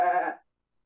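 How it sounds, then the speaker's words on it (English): A single short goat bleat, clear and moderately loud, lasting under half a second before silence. "Look at the goat."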